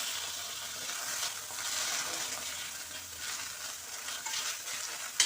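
Tomatoes go into moong dal in a frying pan and are stirred through, producing a soft continuous hiss and sizzle with light scraping strokes, fairly quiet and without talk.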